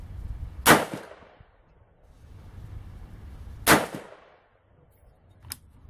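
Two loud, well-spaced shots from a Daniel Defense M16 A1.5 rifle on an outdoor range, roughly three seconds apart, followed by a fainter sharp crack near the end.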